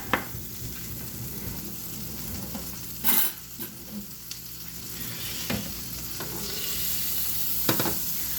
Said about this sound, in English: I want to get a nice coating of butter, and I'm going to see it sort of foam up on the bottom